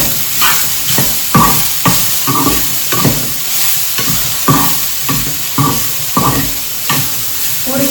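Potatoes sautéing without oil in a pan on low heat, with a hissing sizzle and rhythmic stirring scrapes about every second, loud and close.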